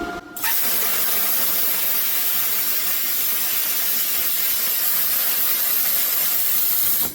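An Arctaylor Cut55P plasma cutter running at 55 amps on 220 volts cuts quarter-inch metal with a loud, continuous broadband hiss that starts abruptly after a short pause and carries on steadily without speech.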